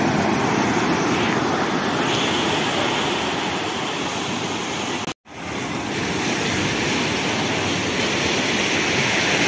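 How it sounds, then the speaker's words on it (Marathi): Steady broadband surf washes in continuously at dusk on Tharkali beach in Sindhudurg, a loud, near roar of breaking sea waves with a brief dropout midway and no voices. "हा समुद्राच्या लाटा आहे"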